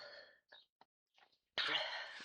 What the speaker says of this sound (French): Je me suis mouchée, par contre.